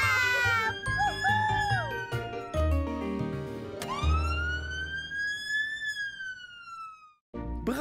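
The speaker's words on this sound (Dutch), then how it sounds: "Brandweerwagens." A cartoon fire engine siren wails in rising and falling sweeps, loud and close, mixed with playful music and sound effects, then cuts off abruptly.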